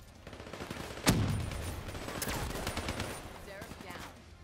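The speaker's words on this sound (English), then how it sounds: "I can guarantee this Cerberus is shooting straight for me" A Cerberus gun fires in Black Ops 3, a sharp close shot followed by a rattling burst of rapid gunfire that fades out, with a voice talking over it.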